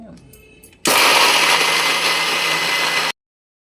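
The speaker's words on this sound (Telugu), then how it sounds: "మిక్సీ వేసి ఆడిస్తా" A mixer grinder blending dry fruits into powder starts abruptly after a quiet moment, roaring loud and steady for about two seconds before cutting off sharply into silence.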